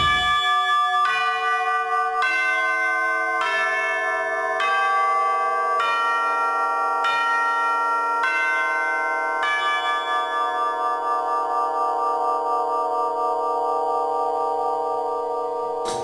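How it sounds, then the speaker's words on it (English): Chimes ringing in a studio recording, a series of bright, sustained metallic tones struck one after another roughly every second, each ringing into the next, clear and prominent with a long shimmering decay at the end. "We were also able to use some chimes"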